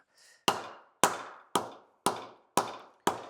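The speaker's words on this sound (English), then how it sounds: "He says just before hitting it with a hammer." A dead blow hammer strikes the cast iron head of a Go Devil L134 Jeep engine: seven sharp, evenly spaced thuds with short decays, close and loud, after a faint brief sound at the start.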